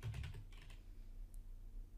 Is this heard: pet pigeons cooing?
no